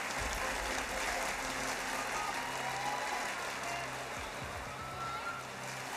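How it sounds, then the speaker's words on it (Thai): Audience applause at the Miss Universe Thailand 2022 pageant, a steady broad wash of clapping from a large crowd held at constant level, with a low hum and faint voices underneath. "ปรบมือดังๆเป็นกำลังใจให้กับสามสาวงามของเราบนเวทีครับ"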